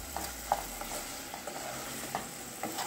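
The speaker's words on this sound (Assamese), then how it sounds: "এতিয়া আমি এখিনি ভালদৰে 2 মিনিটৰ লকে মিডিয়াম ফ্লেমত এনেকৈ ভাজি থাকিব লাগিব" Soybean fried rice frying in a pan on a medium flame, with a soft, steady low sizzle broken by occasional light clinks of stirring.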